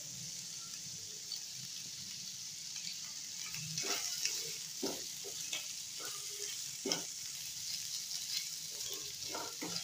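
Chicken keema and green chillies fry in a pan for a samosa filling, a steady close sizzle with scattered clicks of a spoon stirring and scraping, no voices.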